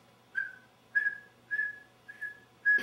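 A person whistles an imitation of a saw-whet owl call: five short, evenly spaced clear whistled notes, each a brief steady tone, close and alone against a quiet background.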